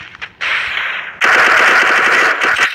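Rapid automatic gunfire in the mobile shooter Free Fire MAX, loud and close, with a short burst followed by a longer sustained rattling stream of shots.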